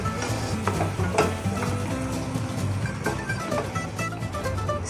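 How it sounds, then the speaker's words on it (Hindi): Red chili powder being stirred into mango chutney in a pan over a low flame, a steady scraping stir with soft sizzling and occasional clinks of utensil on metal throughout, no talking. "मिर्ची को भी अच्छे से मिक्स कर लेंगे"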